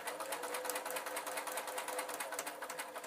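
Sewing machine stitching across the corner of a simple fabric bookmark, over embroidery thread holding a tassel; a steady, fast, close needle chatter runs continuously with no talk.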